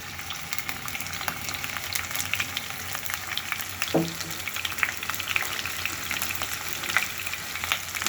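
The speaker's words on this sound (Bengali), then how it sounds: "এখন ভেজে নেব। পেঁয়াজটা একটু হালকা ভেজে নেব।" Chopped onion fries in oil in a pan, a constant close crackling sizzle with light popping and a brief stir partway through, without any talking.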